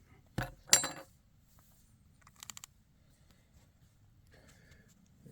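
A Coleman camping cook set is handled at a campsite: two sharp metallic clanks close together, then a quick rattle of small clinks, followed by faint scattered handling noises.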